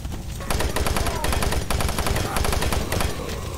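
Rapid, loud gunfire in the shooter game Doom 3, a dense continuous burst of shots with brief gaps, close and dominating, no talking.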